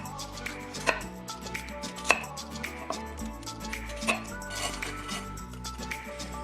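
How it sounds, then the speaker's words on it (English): A knife slices peeled potatoes very thinly on a board for dauphinoise. Crisp chopping taps repeat close up, with a few sharper clinks. A faint voice can be heard in the background. "we need to peel and very thinly slice our potatoes"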